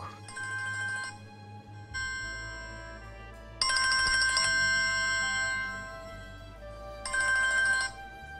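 A telephone ringtone plays a bright electronic melody in repeated bursts with short pauses, loud and close over a low steady background hum.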